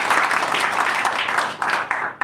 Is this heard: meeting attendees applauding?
yes